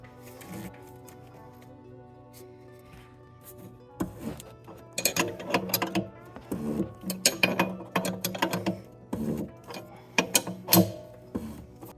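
A ratcheting tool, most likely the torque wrench, works on a Lexus IS300 coilover: quiet at first, then repeated close clicking strokes in bursts through the second half.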